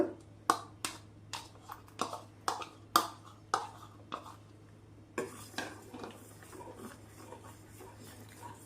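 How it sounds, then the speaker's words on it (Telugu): Almond milk with custard cooking in a pot, stirred with a utensil that knocks the pot in a quick run of regular, sharp taps, followed by softer, scraping stirs. "ఆ కస్టర్డ్ వేసుకుందాం ఇది బాగా కలుపుతూ ఉడికించుకోవాలన్నమాట"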